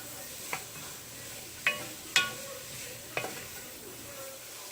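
A pot of cornbread chili cooks down over a low, steady simmering sizzle, with a few distinct spoon clinks and scrapes against the pot spaced a second or so apart, close by and without voices.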